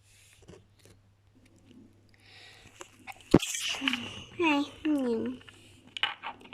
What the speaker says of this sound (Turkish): İlk defa kardeşim hapşırdı.